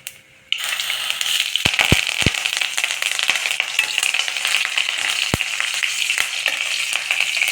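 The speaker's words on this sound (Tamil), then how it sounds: "இப்போது கொஞ்சமாக கருவேப்பிலை போட்டுக்கலாம்" Curry leaves crackle and spit in hot oil for a tomato thokku, a loud steady sizzle with several sharp pops after a quiet start, no voices.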